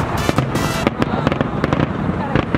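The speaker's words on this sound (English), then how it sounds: "Wow! Awesome fireworks in CLAWSON, Michigan." Fourth of July fireworks over Clawson, Michigan burst in a rapid crackling series of sharp pops and bangs, loud and close, with excited voices talking over the display.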